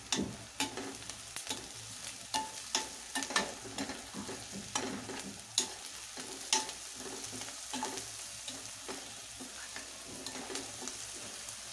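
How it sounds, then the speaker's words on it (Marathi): Onions frying in a pan with salt and a little sugar, a continuous soft sizzle broken by irregular scraping clicks of a spoon stirring, close and fairly quiet, with no voices. "कांदा आपला शिजतो आहे"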